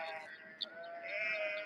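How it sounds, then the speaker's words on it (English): A sheep bleats in one sustained, wavering call, close and clear, with a brief sharp tick partway through. "Bloody sheep."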